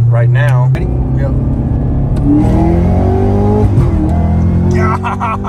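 A Chevrolet Camaro ZL1 1LE accelerates hard, heard from inside the cabin: loud engine roar climbing in pitch through gear changes, with people talking and exclaiming over it.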